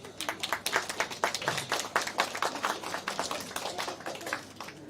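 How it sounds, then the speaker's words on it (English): An audience at a doll festival inauguration ceremony gives a round of applause, a lively patter of many separate hand claps that comes in uneven bursts and is heard on its own without speech. "please give them a resounding applause"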